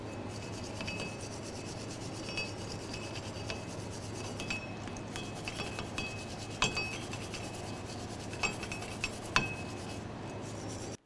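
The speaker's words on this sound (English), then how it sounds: "continue on with a wire brush in between your studs and the hub" A wire brush scrubs around the studs and hub on the rear brakes of a 2014-2018 GMC Sierra 1500, a steady close raspy rubbing with occasional sharp metallic clinks, heard alone.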